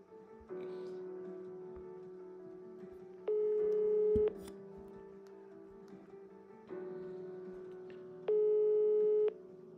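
Telephone call tones play while a call is placed during a French lottery scratch-game show: two long steady ringing tones, each briefly rising into a higher, louder pitch before stopping, heard clearly with no talking.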